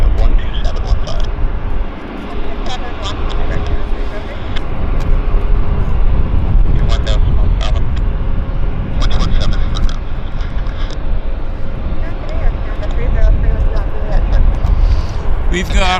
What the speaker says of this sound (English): We've got another aircraft on approach.